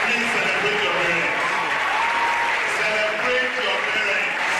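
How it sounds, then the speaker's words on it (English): Audience at an optometry oath-taking and induction ceremony applauding parents, a sustained, full round of clapping with voices faintly mixed into the crowd. "Please celebrate your parents."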